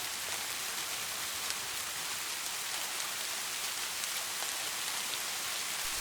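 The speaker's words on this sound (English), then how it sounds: "let the rain wash away the noise of the day" Steady rain falls without a break, a dense, even hiss of drops across the whole stretch, with no voices.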